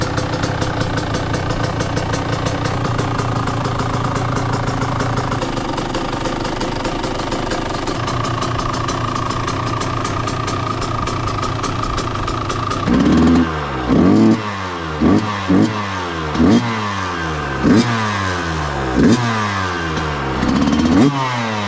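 A Yamaha YZ125 two-stroke dirt bike engine runs at a steady buzzing idle, then breaks into a series of sharp, loud revs that rise and fall in quick repeated bursts, close by with no talking.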